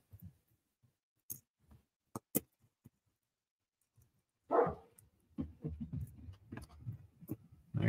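A dog growls low and rough at close range, starting after a stretch of near silence broken by a few sharp clicks and ticks, then rumbling on in uneven bursts to the end.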